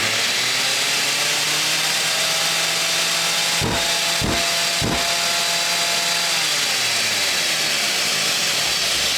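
Three quick, sharp filter-cleaning pulses of air burst out in succession from a dust extractor over the continuous whine of its running vacuum motor.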